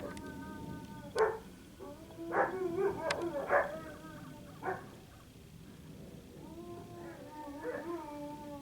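Excited dogs outside bark repeatedly in short bursts, with some higher yips and tonal whines between the barks, fairly close and clear over a low outdoor background.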